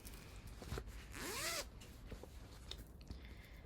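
A zipper on a cross stitch project bag is drawn open in one quick, close pull, with faint handling rustles before and after.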